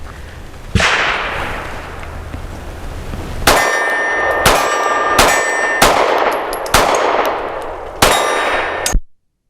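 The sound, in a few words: Mossberg MC2sc handgun shots at the range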